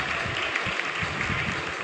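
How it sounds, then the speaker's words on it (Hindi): Applause from a room of staff in a space agency mission control during a lunar landing's vertical descent phase, a steady, dense wash of clapping that stays even and continuous throughout. "आप तालियों के गड़गड़ाहट से सुन सकते हैं"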